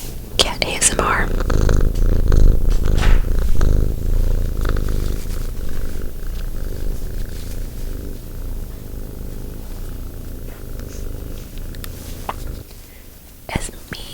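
A cat purrs with a close, steady low rumble that runs continuously, while a soft whispering voice is heard over it.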